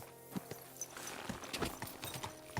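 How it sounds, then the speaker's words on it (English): A horse's hooves clip-clop in the medieval Bohemian world of the video game Kingdom Come: Deliverance II, a quick run of soft, close hoofbeats over a busy background. "Let's go ahead and get our horse back over here."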